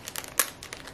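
Easy-open sticker packets crinkle softly up close, with one sharper tearing rip in the middle of a brief flurry of plastic rustling.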